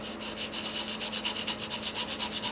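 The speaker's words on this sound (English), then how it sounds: "what I'm basically doing is like I'm sanding it" Rapid back-and-forth scrubbing with a scouring pad on a large fish, a rhythmic rasping close by over a low steady hum.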